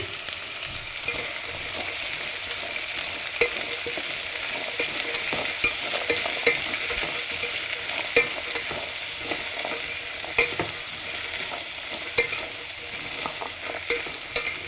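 Chickpea usli with grated coconut is stirred in a hot pan, giving a steady, close scrape and clatter over a continuous soft sizzle, with no voices.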